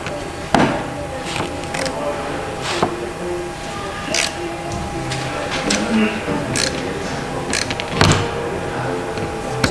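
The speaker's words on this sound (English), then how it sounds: "and start putting your screws in." A screwdriver drives screws into a homemade aluminum insert for interior trim, giving steady close scraping and creaking with scattered sharp clicks and clacks over a constant background hum.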